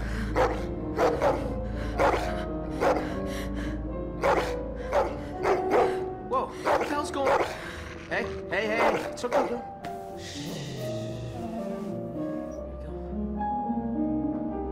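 Dog barking in The Walking Dead video game, a series of sharp repeated barks over several seconds mixed with game music and voices talking.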